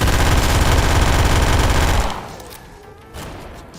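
An MG42 machine gun in the video game Those Who Remain fires a loud, rapid burst for about two seconds, then stops, leaving quieter game sounds.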